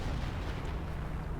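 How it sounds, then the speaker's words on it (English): A Company of Heroes 2 howitzer pounds away in a deep, rumbling artillery barrage, loud and low-heavy across a short stretch with no clear gaps between impacts. "Question is, where is this howitzer firing? He's pounding home sector."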